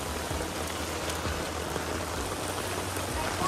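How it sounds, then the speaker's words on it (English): Heavy rain pours down hard and steadily outdoors near flooded storm drains, a constant close hiss of water with rushing runoff beneath. "It's raining really hard still."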